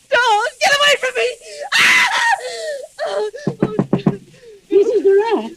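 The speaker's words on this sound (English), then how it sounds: "Why were you screaming?" A woman screams in fear during an old radio suspense drama. Her loud, shrill cries and wails come in repeated bursts, with frightened vocal sounds and a few knocks in between.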